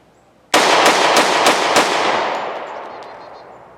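A Glock Model 30 pistol chambered in .45 ACP fires five rapid shots in quick succession, loud and close, with the blasts ringing out into a long fading echo.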